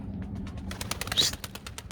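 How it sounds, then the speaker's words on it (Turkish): A domestic tumbler pigeon takes off, its wings clapping in a quick run of sharp, evenly spaced flaps that grow louder, then ease off, close to the microphone. "Kuşumuz düz bir şekilde kalktı."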